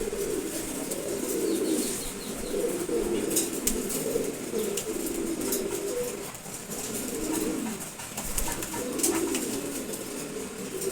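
Caged racer pigeons coo steadily and continuously in low, throaty rolling phrases, with faint chirps and a brief flutter of wings mixed in at close range.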